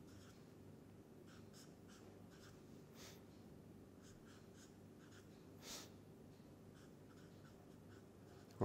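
A pen scratches across a surface while a chemical structure is written out during a chemistry lecture, with faint intermittent strokes over a quiet room background and no speech.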